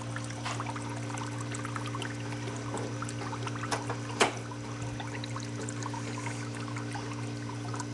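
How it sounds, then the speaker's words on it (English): Melted ice cream with chips poured through a spaghetti colander, a faint, steady trickle and drip lasting several seconds under a constant hum, with one brief sharp clink partway through. "I'll pour that through the spaghetti colander"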